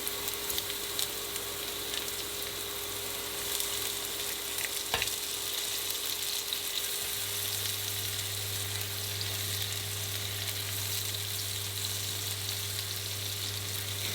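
Pepper, ginger, garlic and soaked fermented black beans fry in oil for a dim sum black bean sauce, giving a continuous, even sizzle with a steady low hum underneath and no voices.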